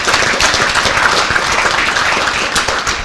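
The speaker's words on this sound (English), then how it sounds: "I want to give them a round of applause." Sustained applause from an audience at a village's annual State of the Village address, dense and even clapping filling the room throughout without speech.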